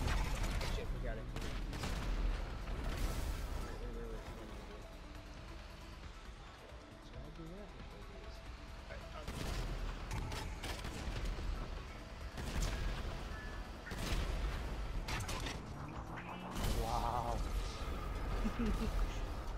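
Gunfire in GTA V, bursts of shots and rattling automatic fire, irregular and fairly close, running under a busy game soundscape while people talk over it.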